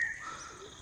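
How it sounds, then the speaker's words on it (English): Birds singing in a natural spot near a medical college in Bolangir, a thin high chirp and warbling call over faint outdoor hiss, brief and moderately close. "here you can see and listen the music of birds"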